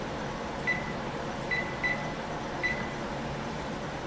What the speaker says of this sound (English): I'll even put the timer on.